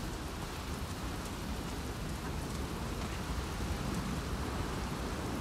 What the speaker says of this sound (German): Oh, jetzt regnet's auch noch.